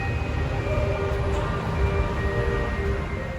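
A light rail (LRT) train in Manila rumbles continuously with a low, steady drone and faint high whine, close and loud throughout the short stretch.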